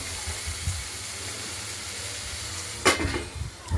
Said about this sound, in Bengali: ঢাকনাটা খুলে এটা নেড়ে ছেড়ে দেওয়া হলো, আস্তে আস্তে ভাজা হোক